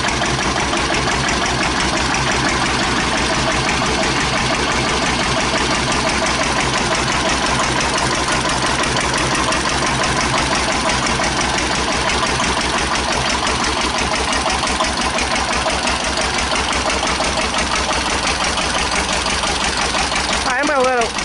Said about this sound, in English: A little bit of while with that load, let it warm up a little bit, and we'll start adding more load